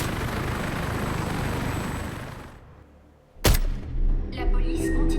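A helicopter in the shooter game Warface gives a loud, steady rotor and engine roar that fades after a few seconds, followed by a sharp impact and busier game sounds.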